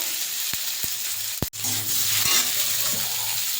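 Chopped ginger and tomato pieces fry in a little white oil in a wok, a close, continuous sizzle broken by a few sharp utensil taps and scrapes.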